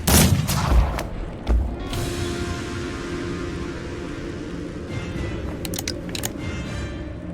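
Gunfire in the Mordheim: City of the Damned video game, a few sharp shots at the start followed by a steady rumbling battle din with scattered impacts.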